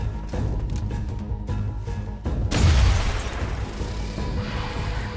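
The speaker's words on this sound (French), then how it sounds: "Explosion." An explosion in the video game XCOM Chimera Squad hits midway as a sudden deep boom with a crackling burst that fades over a couple of seconds, after quieter game sounds.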